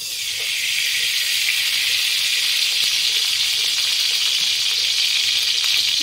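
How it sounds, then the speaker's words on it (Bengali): Ghee sizzles in a hot kadai, a steady bright hiss rising in the first moment and then holding evenly without talk. "এখন আমি ঘি ঢেলে দেবো।"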